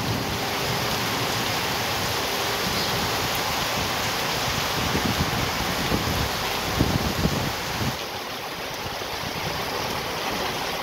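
Heavy October rain pours steadily on a ranch as a dense, constant hiss, with a slight swell in intensity midway before easing a little toward the end; no voices.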